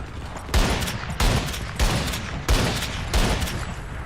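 Machine gun fire with a bipod in a video game, five heavy evenly spaced bursts booming loudly and close, each trailing off before the next.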